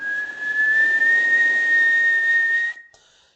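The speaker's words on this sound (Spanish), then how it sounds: "si yo silbo" A steady, sustained whistled tone holds one pitch for nearly three seconds, then stops abruptly, leaving faint room noise.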